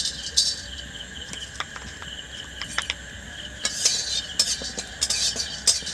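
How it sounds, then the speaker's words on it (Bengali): Melon seeds dry-roasting in a pan, giving off faint crackles and scraping stirring taps in uneven bursts, quiet and close, with no talk. "এই 4 মগজটা শুকনো খোলায় আমি হালকা করে ভেজে"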